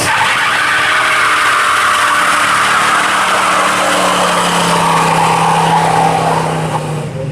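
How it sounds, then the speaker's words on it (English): A car doing a burnout at the Hot Rod Power Tour: loud, sustained tire squeal over a roaring engine, close and continuous for the whole stretch, fading slightly at the very end. "So you're just tempting everybody to do burnouts, huh?"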